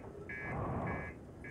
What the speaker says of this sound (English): It only beeps like that if the reactor is broken.